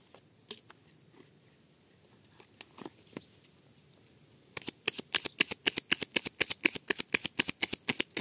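Tarot cards are handled with a few soft scattered riffles and taps, then shuffled in a rapid, crisp series of flutters and snaps heard close up, with no talk.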